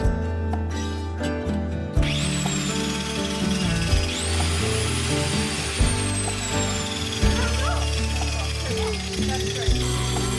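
An angle grinder is run and tested in repeated bursts, a loud high whine rising and falling as it spins up and cuts, with voices speaking over parts of it.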